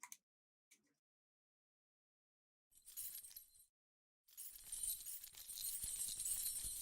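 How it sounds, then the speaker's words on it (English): A bunch of keys jingles close by in two bright, rattling bursts, the second one longer and sustained, separated by brief silence. "hopefully I can jingle keys."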